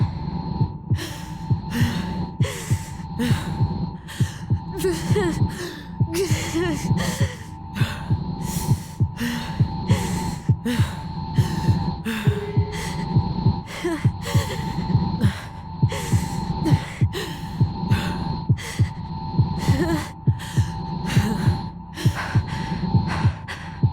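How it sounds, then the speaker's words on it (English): A racing heartbeat in the game Tell Me Why pounds in a rapid, even rhythm throughout, heavy and close, layered over a steady droning hum with no voices. "My heart's still racing."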